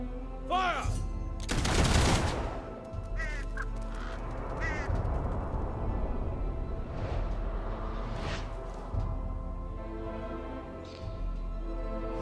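A firing squad in Fable 3 lets off a single loud musket volley, a sharp crackling burst that rings out and fades into ambient game sounds, including bird-like honks and faint voices.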